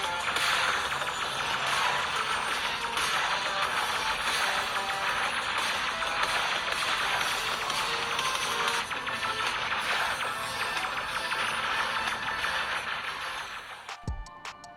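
Audio playing from the speakers of a Galaxy S22 phone, a steady dense bright sound for most of the stretch, ending in a sharp thump with a couple of faint clicks.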